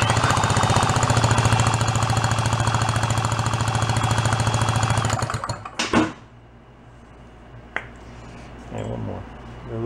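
A grinder works on a part of an old 49cc fold-up suitcase scooter that sat unused for over 40 years, a loud steady buzzing drone that cuts off midway, followed by a few sharp clanks and low background noise.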